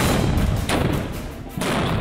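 An old cannon fires in the streets of Mexico, heavy booming blasts with a dense rumbling roar that dips briefly and then surges again, loud throughout.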